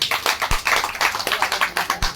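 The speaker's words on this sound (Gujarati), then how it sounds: "એટલે આપણે અરુણાબેન માટે એક જોરદાર તાળી પાડી દો" Audience applause in honour of Arunaben at a stage event, a dense, steady patter of many hands clapping with rhythmic swells, moderately close and continuous for a couple of seconds.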